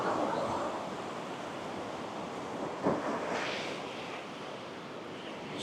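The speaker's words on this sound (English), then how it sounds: "It's a beautiful ocean." Steady broadband wash of ocean surf at Balangan Beach, Uluwatu, Bali, with a soft swell and a brief louder crash near the middle, wind noise blending in throughout.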